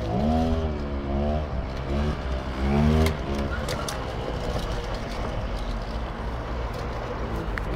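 A vehicle pulls a wheelie with wheel spin at Brandon Hire. The engine revs loudly in rising and falling surges, then settles into a steady roaring rumble.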